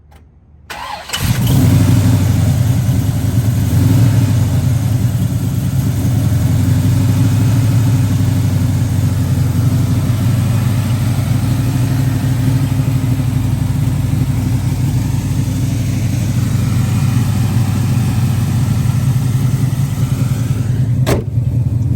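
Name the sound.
V8 muscle car engine idling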